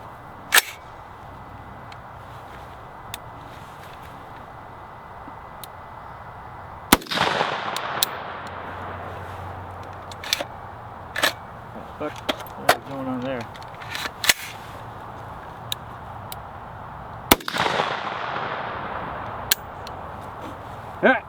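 Suppressed shots from an ADM UIC Mod3 rifle fitted with a Surefire SOCOM556-RC2 suppressor, fired in two or three sharp reports several seconds apart among small clicks and handling noise.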